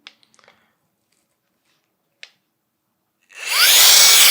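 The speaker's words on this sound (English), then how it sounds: "So we got suction on one end and the blower on the other." A cordless electric air duster and vacuum starts up near the end, a loud, steady high-pitched whoosh of motor and airflow, after a few quiet clicks and a brief tap of handling.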